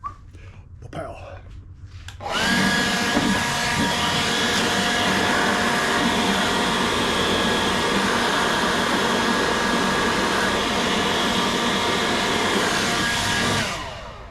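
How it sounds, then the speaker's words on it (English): A small cordless battery-powered leaf blower clears out a workshop, starting after a couple of seconds and running as a loud, steady whine for about eleven seconds before cutting off. "I love that little blower."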